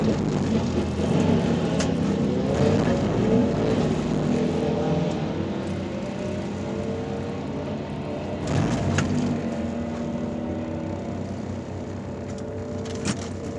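A drag car on radial tires runs a pass at the track at night with boost turned down, fresh plugs and a full tank, its engine droning steadily under load for most of the run before easing off, loud and close.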